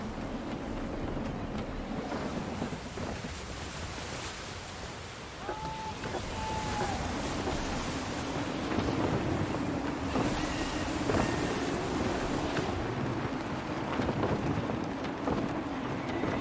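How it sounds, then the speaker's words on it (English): Gusty wind and open-sea waves in a sailing video game, a steady broadband rush of wind noise and surf with occasional faint creaks from the vessel. "Gusty winds can be difficult to manage."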